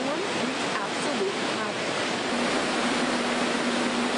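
Floodwater rushes loudly and continuously through a storm-swollen creek in Troy, a dense steady roar of water with wind buffeting the microphone.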